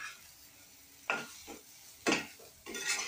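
Leftover idli is tossed with podi and butter in a pan, giving a few soft scraping stirs over a faint background sizzle, quiet and close.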